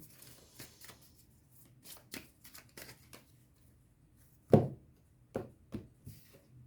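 Tarot cards shuffled by hand before a reading, giving a run of soft riffling taps and flicks with one louder slap partway through, close and quiet.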